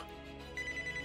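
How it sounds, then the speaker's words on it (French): A mobile phone rings with a steady repeating electronic tone that starts midway and continues to the end, heard over quiet indoor background music. "C'est le téléphone de Yuvraj."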